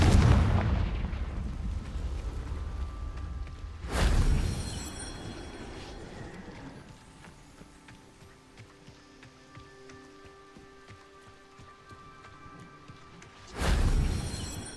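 Confringo fire spell in Hogwarts Legacy, heard as sudden loud booming blasts at the start, around four seconds and near the end, separated by quieter magical shimmering and rumbling ambience.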